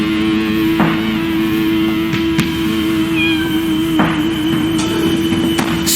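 A cat meows from behind a locked door in the Deponia adventure game, a few short cries over a steady humming game soundtrack with occasional clicks.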